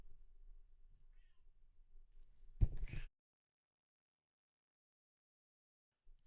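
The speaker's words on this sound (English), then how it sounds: "Cat is meowing around" A cat gives one short, close meow, loud against a quiet room after low murmuring background, then silence.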